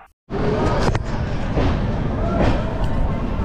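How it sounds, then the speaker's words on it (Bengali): The Doon Express runs on rails as it pulls into Deen Dayal Upadhyay station, a steady loud rumble of wheels and carriage noise filling the interior with a few sharper clanks. "ট্রেন এখন দীনদয়াল উপাধ্যায় ঢুকছে।"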